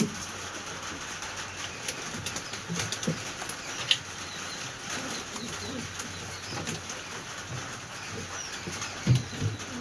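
Madras pigeons in a loft at Berhampur, Murshidabad, with soft wing flutters and low cooing over a steady background hum, plus a couple of sharper flaps near the start and end.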